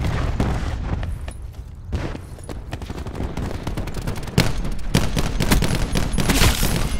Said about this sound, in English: Cluster's ready. Cluster grenade.